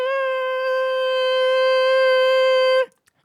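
A single steady sung vowel, recorded as the raw voice sample for a vocal synth, holds one pitch for nearly three seconds at a clear, even level before cutting off into silence.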